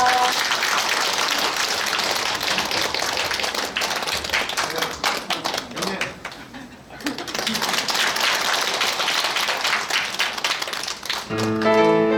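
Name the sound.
audience applause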